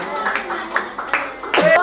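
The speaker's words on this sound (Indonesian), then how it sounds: "silakan beri tepuk tangan" A classroom of students gives scattered, uneven clapping for a student group that has just presented, a few separate bursts over under two seconds, with voices mixed in.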